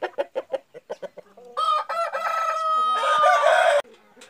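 A rooster gives a string of short, sharp clucks, then a loud, drawn-out crow lasting about two seconds before it cuts off abruptly.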